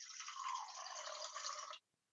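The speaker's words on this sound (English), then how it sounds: "I've got a jar and I'm going to fill that up with water" Water running into a jar, a steady hissing pour that fills the scene for under two seconds, then cuts off abruptly into near silence; close and fairly soft.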